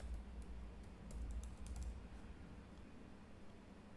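Steady rapid typing on a computer keyboard, soft key clicks running continuously at moderate level over a low background hum.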